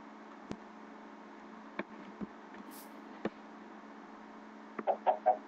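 Chickens in the video game Minecraft give a few short clucks, sparse and quiet over a low game hum, with a quick cluster of louder clucks near the end.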